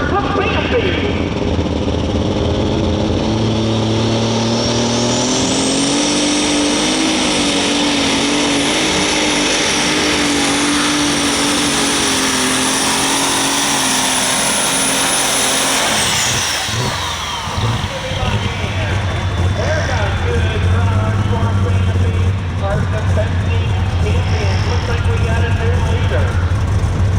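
A John Deere 8330 triple-turbocharged pulling tractor roars at a tractor pull, a loud sustained engine howl with a rising turbo whine that cuts off and drops back to a rumbling idle, while an announcer talks over the noise.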